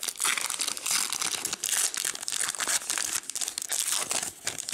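Packaging of a Pokémon trading card box set being torn and crumpled open up close, a dense run of crinkling and ripping plastic and card sounds lasting several seconds, with no talking.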